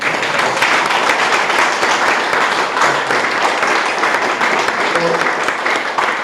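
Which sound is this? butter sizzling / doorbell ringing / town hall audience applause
town hall audience applause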